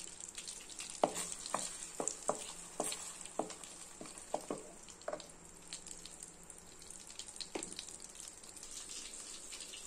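A bay leaf, a small piece of cinnamon and two cloves sizzle in melted butter for a paneer butter masala, a steady close crackle broken by irregular sharp pops and stirring scrapes, with no talking.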